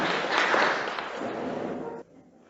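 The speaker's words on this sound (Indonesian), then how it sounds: "Tepuk tangan dulu supaya yang tidur bangun." An audience claps together in a room for about two seconds, a dense burst of applause that cuts off abruptly.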